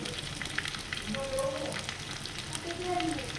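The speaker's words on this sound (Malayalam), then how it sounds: "ഇനി നമുക്ക് അതിലേക്ക് 2 സവാള ചെറുതാക്കി അരിഞ്ഞത് ഇട്ട് കൊടുക്കാം" Two chopped onions fry in a pan with green chillies and curry leaves, making a continuous close sizzle with light crackles and stirring.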